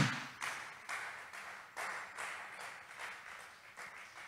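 A church congregation claps together at a service, steady and fairly faint, with rhythmic pulses about every half second.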